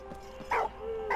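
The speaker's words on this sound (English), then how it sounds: "What are you doing, you stupid dog?" A dog in the video game Valiant Hearts gives two short, faint barks about half a second apart over a quiet in-game background.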